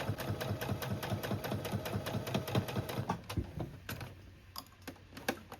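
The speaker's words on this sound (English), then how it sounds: "I'm going to sew this invisible zipper with my sewing machine right along the edge" A sewing machine stitches an invisible zipper along a sweatshirt edge using a zipper foot. The needle chatters in a fast, even run, then slows into separate stitches near the end, close and fairly quiet.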